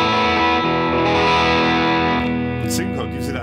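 An electric guitar on its bridge pickup, played through a Mesa Boogie amp model on ToneX, rings out in loud, sustained distorted chords with rich harmonics and a brief pick scrape near the end.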